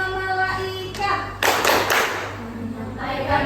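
Rhythmic hand clapping by a classroom group during a religious-education song lesson, a few sharp claps in a pattern over a sustained sung or hummed tone, with children's voices faintly present.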